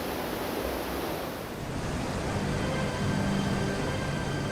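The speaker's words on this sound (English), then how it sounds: "water from the head race flows into a wheelhouse, where it steadily turns the big water wheel" Water from a head race pours into the wheelhouse of the restored Wilkinson Mill and turns the big water wheel, making a steady, dense rushing roar with no breaks.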